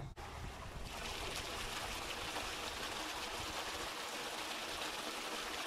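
Water gushes steadily from a tank out through an old rain-gutter downspout. A short quiet moment gives way to a continuous, close, full splashing rush that holds even to the end.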